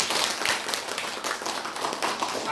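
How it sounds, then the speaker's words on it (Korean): Welcoming applause from a church congregation during a Sunday worship service, broadband clapping sustained and fairly even throughout, moderately loud with scattered individual claps standing out. "환영의 박수 한번 드리겠습니다"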